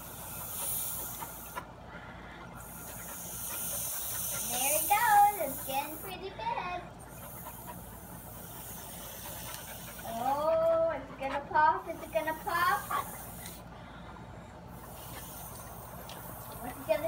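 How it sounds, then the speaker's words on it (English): A child blows a plastic balloony bubble through a straw in a few long, breathy hisses separated by pauses. Children's voices talk and react between the blows. "I'm gonna blow the biggest balloony I can."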